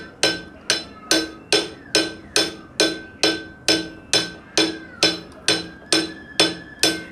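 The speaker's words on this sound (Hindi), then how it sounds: "जहाँ पर जाम है वहाँ पर आप ऐसे करके हथौड़ी मारें।" A hammer strikes a jammed sewing machine in a steady, even rhythm, about fourteen sharp metallic blows with a slight ringing tone, close and clear with no talk.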